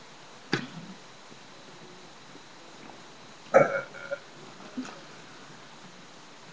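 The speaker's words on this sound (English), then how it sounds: "That's not farting, that's burping." A few short, low burps come from a girl in a quiet room, with a sharp one near the start and a louder, drawn-out burp midway that breaks into a couple of smaller ones.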